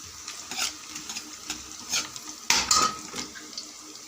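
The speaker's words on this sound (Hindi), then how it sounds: "इसमें दरमियाना साइज़ का प्याज ऐड किया है 1 चॉप करके, और थूम के 3-4 जवे ऐड किए हैं और इसकी करें भुनाई" Chopped onion and a few garlic cloves fry in ghee over a soft sizzle, broken by intermittent scrapes and clinks of a spoon against the pan, with one louder stirring burst midway.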